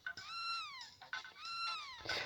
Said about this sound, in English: Look, Chrono, your cat's running away because you haven't been feeding it.